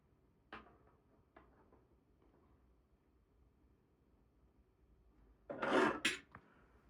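Balisong spoon, fork and comb are handled on a desk, giving a few faint isolated metallic clicks and taps, then a brief louder clattering rattle near the end, in an otherwise quiet room.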